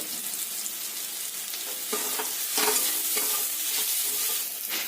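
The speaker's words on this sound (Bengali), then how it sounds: "এতে আমি দিয়ে দেব কুচিয়ে রাখা রসুনগুলো দিয়ে ভালো করে নাড়তে হবে যতক্ষণ রসুনের কাঁচা গন্ধটা না যায়" Chopped garlic sizzles steadily in hot oil in a pan while a spoon stirs it with a few soft scraping strokes, close up and continuous, with no voices.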